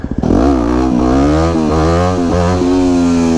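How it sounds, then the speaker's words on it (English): A supermoto motorcycle engine brapping during wheelie practice, loud and close, with quick repeated throttle blips that rise and dip in pitch several times, each followed by a sustained high rev, with no talking. "Lots of brapping going on there."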